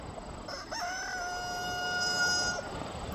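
A rooster on a homestead lets out a single drawn-out crow lasting a couple of seconds, clear but slightly distant against quiet outdoor background.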